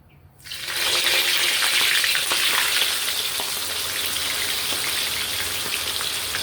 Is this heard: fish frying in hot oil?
yes